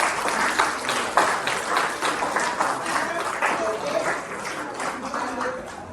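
Dense, close audience applause fills the whole stretch, steady clapping with a few louder peaks, tapering slightly at the end.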